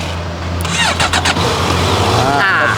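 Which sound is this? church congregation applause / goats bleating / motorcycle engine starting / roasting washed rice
motorcycle engine starting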